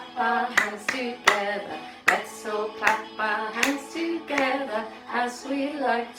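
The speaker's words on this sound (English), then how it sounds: "Let's all clap our hands together" Children and adults clap their hands together at a library rhyme-time session, with crisp, rhythmic claps in bursts over a sung nursery rhyme.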